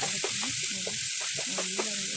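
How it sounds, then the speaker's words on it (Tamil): Ingredients sauté in a hot pan with a constant, bright sizzle while a spoon stirs and scrapes in short bursts. A voice murmurs faintly underneath. "நல்லா வதக்கி விட்டுக்கணும்"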